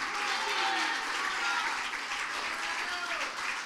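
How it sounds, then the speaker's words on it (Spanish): Steady applause from a church congregation fills the space, dense and sustained with no clear breaks, and some singing or voices blended into the clapping. "Denle un aplauso al Señor Jesucristo"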